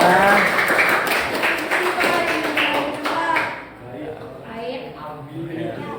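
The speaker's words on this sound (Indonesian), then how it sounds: "tepuk tangan ya" Classroom clapping from students mixes with loud talk and chatter for the first few seconds, then fades into quieter voices.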